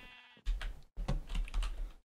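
Two short, close bleats from a sheep in the Minecraft video game, the second longer than the first, heard clearly with no talk.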